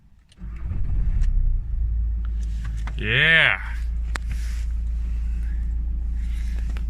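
A 2009 Mitsubishi Lancer diesel car engine runs with a steady low rumble throughout, a brief rising whine near the middle, and a person speaking briefly at the start.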